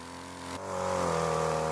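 Chainsaw cutting overgrown trees in rural Italy in winter, a loud, close, buzzing engine drone that jumps in pitch and revs harder partway through, then holds a strained, steady whine.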